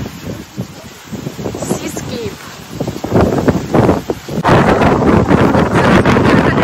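Strong wind buffets the microphone along the Hawaiian shore, a low rumbling roar that swells into a steady, heavier blast in the second half, with people talking underneath.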